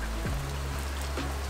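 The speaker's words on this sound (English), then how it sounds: "it started raining" Steady rain falling outdoors, a dense even hiss with no clear individual drops, heard during work on a Mercury outboard motor.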